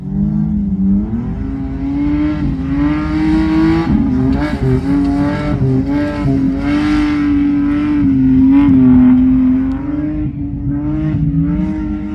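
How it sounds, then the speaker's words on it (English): A Speedway Magna rally car is driven hard around a khanacross track at a rally club event, its engine droning and revving continuously up and down through gear changes, close and loud throughout. "I'm going to go hop in the car and go test out this other track"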